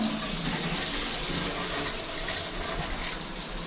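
Hot tub jets churn and gush water steadily, a continuous close rushing and bubbling wash with no voices over it.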